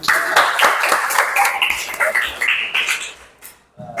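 A classroom of students clapping hands together, loud and close in a rhythmic burst with excited voices mixed in, ending abruptly before a short pause.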